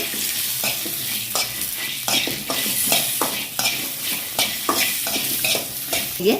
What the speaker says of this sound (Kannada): ಬೆಳ್ಳುಳ್ಳಿ ಒಂದು ಈರುಳ್ಳಿ ಹಾಕಿ ಹೀಗೆ ಸ್ವಲ್ಪ ಉರಿಬೇಕು